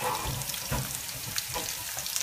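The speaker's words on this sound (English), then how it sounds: "take a look at the onion and garlic. It is starting to sizzle." Onion and garlic sizzle in a hot pan with a steady crackling hiss, punctuated by a few soft clinks and stirring sounds.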